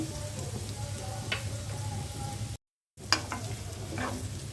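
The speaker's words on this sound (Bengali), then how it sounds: "পেঁয়াজটা হালকা ভেজে নিয়েছি" Onion and chopped garlic frying in mustard oil for tomato chutney, a soft steady sizzle with occasional scraping stirs, broken by a brief moment of silence partway through, no voices.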